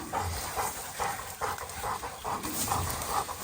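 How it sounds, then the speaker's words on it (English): Dogs at a Cane Corso wild boar hunting kennel, with rhythmic barking and panting-like bursts repeating every half second or so over outdoor noise, moderately close. "We had only one adult dog, which is Macho back there"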